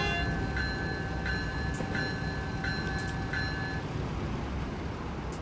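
Game train rolling through a Transport Fever 2 rail scene, a steady broadband rumble with faint repeating high tonal chimes or beeps pulsing at a regular rhythm over it, continuous and fairly loud throughout.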